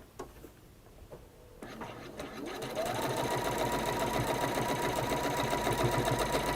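Sewing machine stitching a sawtooth star quilt block onto the side of a blank fabric square, starting after a few quiet handling sounds and then running steadily and loudly, close by, to the end.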